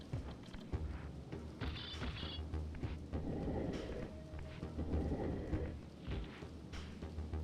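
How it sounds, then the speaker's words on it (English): Rain pours steadily with rolling rumbles of thunder in the PS1 game Legacy of Kain: Soul Reaver, a dense wash of falling water swelling in the middle and no speech over it. "We gotta get out of the rain."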